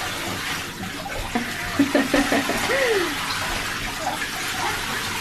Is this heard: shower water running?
yes